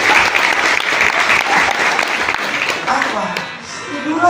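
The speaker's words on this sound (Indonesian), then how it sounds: "Tepuk tangan dulu." Audience applause at an Indonesian Islamic boarding school alumni reunion: dense, steady clapping from a large crowd filling the space, fading slightly toward the end as a voice begins to speak.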